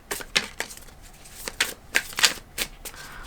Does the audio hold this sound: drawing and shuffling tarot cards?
yes